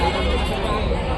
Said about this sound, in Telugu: చూడండి మేక పిల్లలు